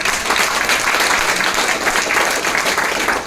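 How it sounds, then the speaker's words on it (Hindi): Audience at an anniversary event of a health centre in Indore applauding, a thick, continuous wash of many hands clapping at steady loudness, close and unbroken. "एक बार मन्नान जी के तालियां"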